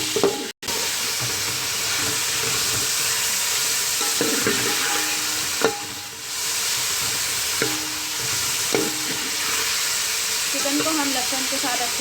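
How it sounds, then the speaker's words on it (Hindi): Chicken frying with garlic for egg fried rice, a broad constant sizzle with occasional soft knocks and scrapes of stirring, fairly loud and steady throughout. "चिकन को हम लहसुन के साथ अच्छे से फ्राई कर रहे हैं।"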